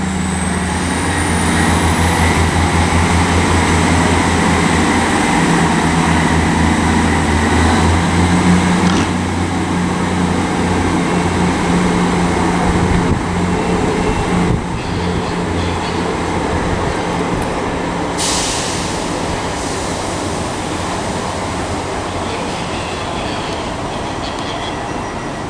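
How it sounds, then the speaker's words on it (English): A train pulls out of Southampton Central station bound for Salisbury, a loud, steady rumble of engine and wheels that carries on throughout, with a high whine rising early on and a few sharp squeals and clanks along the way. "And departing now is going to be the 12:37 to Salisbury."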